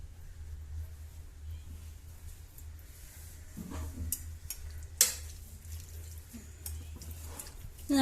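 A spoon stirs chicken masala with soaked kasuri methi in a pan, giving soft scraping and faint sizzling over a low steady hum, with a couple of sharper clinks near the middle and at the end.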